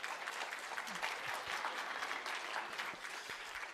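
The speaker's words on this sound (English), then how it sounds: "give him a round of applause." Steady, dense applause from a large lecture-hall audience at Utah State University in Logan, a continuous wash of many hands clapping at even loudness throughout.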